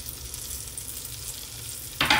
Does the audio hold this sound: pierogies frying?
yes